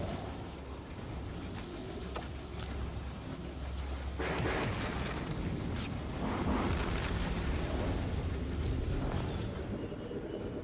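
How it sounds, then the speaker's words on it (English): A grenade explosion in the video game Destiny 2, a deep rumbling blast that swells suddenly and rolls on in a thick, noisy roar for several seconds. "that nade should probably get him"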